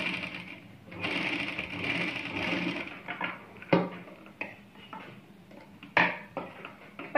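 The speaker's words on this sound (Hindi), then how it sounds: "तो चलिए अब हम इसकी स्टिचिंग करते हैं।" A sewing machine stitches a folded collar strip for a kurti, a quick mechanical whirring run followed by quieter pauses and a few sharp clicks, close and fairly faint.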